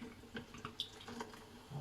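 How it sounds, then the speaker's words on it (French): Small spoon rinsed under a running kitchen tap, a soft steady water stream with faint clinks and drips, quiet and close. "je vais rincer ma petite cuillère"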